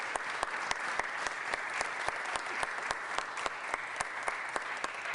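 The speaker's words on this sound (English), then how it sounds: "Give them all a huge round of applause." Audience at a Philadelphia mayor-elect's announcement event gives a steady round of applause, a soft, even patter of many hands with a few sharper, louder claps standing out at irregular intervals, heard at a moderate distance.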